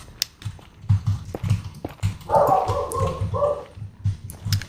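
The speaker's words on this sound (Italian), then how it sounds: "E ha ricominciato ad abbaiare." Dog barks repeatedly in the background, short sharp barks and yips in an irregular rhythm over a low game soundtrack during a Minecraft Nether session, with a whimpering rise in the middle.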